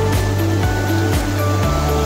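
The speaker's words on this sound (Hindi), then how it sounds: "पानी काफ़ी है और पानी की रफ्तार काफ़ी और पत्थर बहुत हैं यहाँ।" Fast-flowing river water rushes over many stones in a steady, loud, continuous wash, with a low throb pulsing beneath it.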